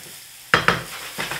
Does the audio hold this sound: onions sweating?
yes